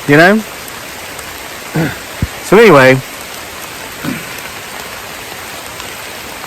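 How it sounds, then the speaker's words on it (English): Rain falls steadily in a forest, a constant hiss of drops on leaves and ground, while someone speaks briefly over it. "I have reason to believe it's not going to stop raining until I leave this forest"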